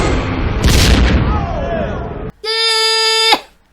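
Bazooka blast in a Christmas horror comedy film, a loud booming explosion with rushing debris noise, followed by a sustained bleating, tonal cry that cuts off abruptly.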